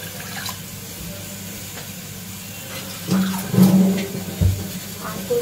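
Water splashes and pours briefly into a pan in the latter half, a short gurgling pour of about 1.5 cups with a couple of bursts, amid quiet kitchen background and talking.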